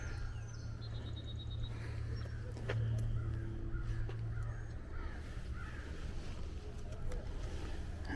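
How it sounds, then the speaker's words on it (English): Crows caw in woods near a historic church in rural Kentucky, scattered calls at a distance over a steady low outdoor rumble. "The crows over in the woods."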